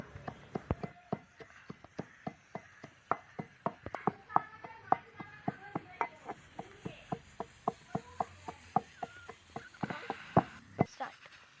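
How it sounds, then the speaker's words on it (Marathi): Roasted spice masala pounded in a mortar and pestle for a village-style mutton curry, producing steady, close, hard thuds at roughly two per second, with a voice heard faintly between strikes. "मी खलबत्त्यामध्ये टाकून पूर्ण जे आपण भाजून ठेवलेला मसाला एकत्र असं कुटून घेत आहे"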